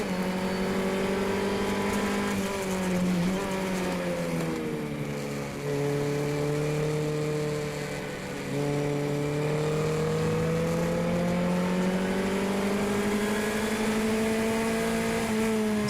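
A race car engine drones loudly in fourth gear during a road race at Palm Beach, its pitch slowly dipping and climbing as the driver holds near the shift point, close and steady with no speech.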